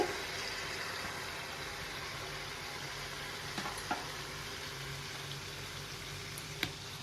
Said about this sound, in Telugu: ఆయిల్ హీట్ అయితే అవి వేసుకున్నాం ఇట్లా మనకి బూరెల్లాగా వేసుకోవాలండి